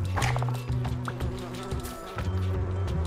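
Bees buzz in a puzzle video game, a close, droning hum with wavering pitch that starts and stops in uneven bursts over a faint background.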